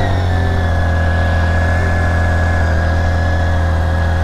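A 2022 BMW K1600 motorcycle engine sits on a steady high idle after a cold overnight start, with a constant loud mechanical hum, a low vibrating drone and a faint whine holding even throughout, with no talk.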